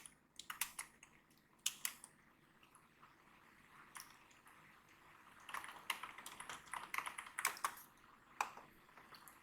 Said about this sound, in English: You need to go to Google and type install.